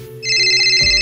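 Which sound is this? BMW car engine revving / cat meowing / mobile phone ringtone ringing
mobile phone ringtone ringing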